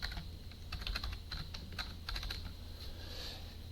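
A password is typed on a computer keyboard in a quiet room: a rapid, uneven patter of close, crisp key taps over a low background hum, with no voices.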